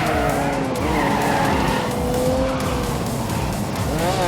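A 5-litre V12 sports car from 1985, driven in The Grand Tour video game, howls as its engine revs rise and fall, while the tyres squeal and skid loudly and continuously.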